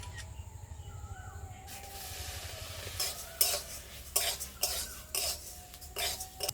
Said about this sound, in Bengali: আমি এইভাবে সব চালগুলো ভেজে নেবো